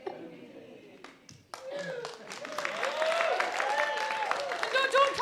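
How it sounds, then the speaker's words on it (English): An audience at a queer poetry night claps after a poem. Clapping and cheers swell from a quiet start to a loud, sustained applause, and a voice talks over it. "No, don't clap yet, I've got one more to go."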